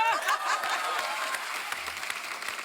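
Studio audience at a Hindi comedy talk show breaking into steady, dense applause that fills the room, with scattered chuckles and a faint voice underneath.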